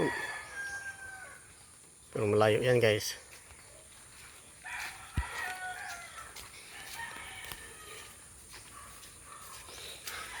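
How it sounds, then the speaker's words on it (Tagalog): A single rooster crow rings out clearly for about a second amid outdoor ambience, with a person speaking quietly afterward. "Ayun ang manok ko."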